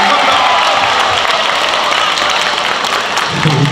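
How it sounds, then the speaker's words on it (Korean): An audience applauds a provincial council member at a community quiz event in Yeongdong, with steady, dense clapping from a large crowd that continues at even loudness. "김국기 도의원께 다시 큰 박수 부탁드릴게요."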